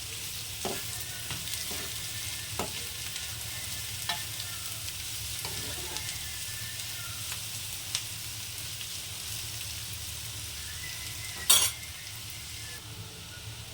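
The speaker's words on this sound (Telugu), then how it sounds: "కొంచెం వేగాలి, ఒక 5 నిమిషాలు అట్లా" Grated potato fries in a pan with a low, even sizzle while a spoon stirs it, producing occasional soft scrapes and one sharper clank of metal against the pan.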